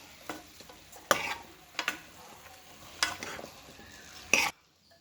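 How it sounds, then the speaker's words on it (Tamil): A spoon scrapes and stirs cubed potatoes with mutton sizzling in a pan for a curry kuzhambu, with four or five distinct scraping strokes over a low, steady frying sizzle. "இதுவும் சேர்த்து நல்லா வந்து பரட்டி விட்டுக்கலாம்"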